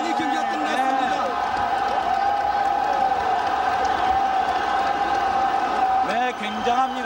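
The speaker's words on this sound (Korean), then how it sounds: "열광하는 관중들입니다" Boxing arena crowd roars continuously and loudly after a knockout, with dense cheering and whoops filling the whole stretch, briefly dipping near the end.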